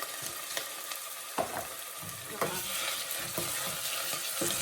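Onions and tomato paste frying in a pot for Nigerian jollof, with a soft continuous sizzle and several close scrapes and knocks of a stirring spoon, no voices.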